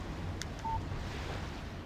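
A brief electronic tone from a mobile phone text message alert in the game Alan Wake, a single short beep over a steady low ambient rumble, with no talking.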